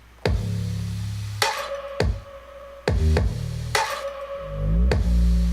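Chorus drum groove of a hip-hop beat, with punchy kicks and snares locking in with a booming, sliding 808 bass; sharp hits land in an uneven, syncopated pattern, loud and up front with no voices.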